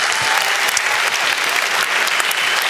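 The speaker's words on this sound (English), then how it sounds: "So please give our staff one more round of applause." An audience at a school production applauds the staff, a dense, even round of clapping that is loud and close and holds steady throughout, with no voices over it.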